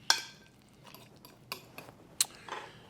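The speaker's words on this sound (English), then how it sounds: "I'm going to mix the salt in one more time" A spoon scrapes and taps against a bowl while salt is stirred into guacamole, giving a few sharp, quiet clinks and soft scrapes spaced apart, close by with no talking.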